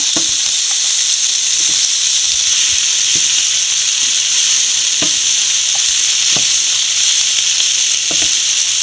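Soya chunks fry in hot oil with spices, ground fennel among them, giving a steady loud sizzle and hiss with occasional soft stirring clicks throughout.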